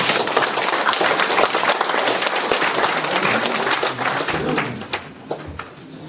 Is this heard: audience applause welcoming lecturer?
yes